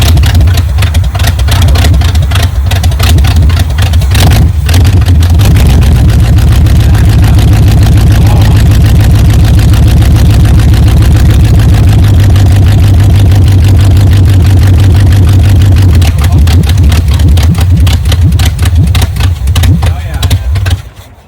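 A 1978 Chevy K10 truck engine that sat for 27 years idles loudly and steadily up close, its low rumble running throughout with slight changes in pitch. People talk over it.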